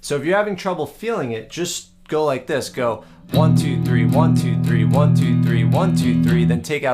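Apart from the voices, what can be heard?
None of the usual background noises is heard.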